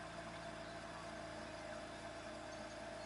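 A BMW E61 engine idles steadily just after an in-tank fuel filter replacement, a constant mid-pitched hum with a faint tonal whine running unbroken and fairly quiet throughout.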